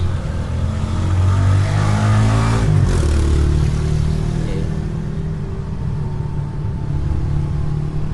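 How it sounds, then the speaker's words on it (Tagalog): Road traffic with cars, motorcycles and tricycles passing on a street, a loud continuous engine rumble with one vehicle surging past close by, then steady drone; someone briefly speaks. "Unti-unti na nagkakaroon ng mga sasakyan ng kalsada."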